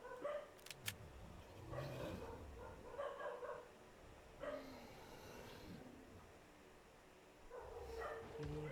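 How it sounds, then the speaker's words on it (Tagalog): Dogs bark and yip in ARK Survival Evolved gameplay, scattered bursts of game noise at low level, with a voice mixed in faintly. "Ingay ng mga aso."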